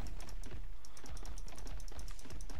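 Rapid computer keyboard tapping while playing modded ARK, a steady stream of crisp, close key presses in quick irregular rhythm with no voice over it.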